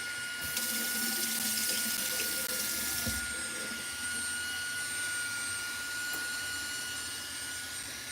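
Tap water runs into a sink while a curly wig is washed, a steady loud hiss throughout with a brief brighter splash near the start.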